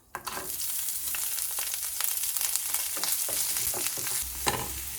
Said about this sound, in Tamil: இப்போது இதில் வெங்காயம் சேர்த்துக்கோங்க.